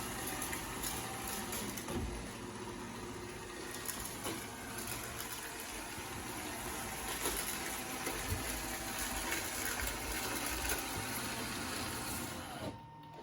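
iRobot Roomba S9+ robot vacuum working its way across a normal-height carpet, a steady broadband whir and hum that holds at an even level throughout, close by with no talking.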